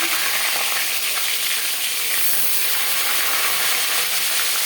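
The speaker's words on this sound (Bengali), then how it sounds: "পাঁচ চামচ সর্ষার তেল গরম করে নিয়েছি এবার দিয়ে দেব ম্যারিনেট করে রাখা মাছ প্রথমে আমি মাথা দিলাম" Marinated hilsa fish head dropped into five spoons of hot mustard oil, giving a loud, steady, dense sizzle with a constant hiss and crackle throughout, no voices.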